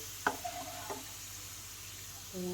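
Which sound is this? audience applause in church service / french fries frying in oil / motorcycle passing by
french fries frying in oil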